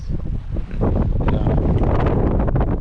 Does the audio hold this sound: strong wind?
yes